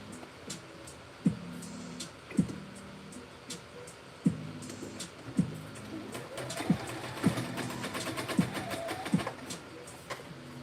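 A sewing machine stitching side seams, with short mechanical runs separated by pauses and clicks, rising to a faster, longer whirring burst near the end, close and moderately quiet.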